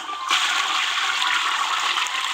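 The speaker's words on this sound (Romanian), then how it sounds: "Zic că trebuie să trag eu apă manual." A toilet flushed manually in a video game, a steady rushing gush of water that starts abruptly and carries on loud and close throughout, with no talk over it.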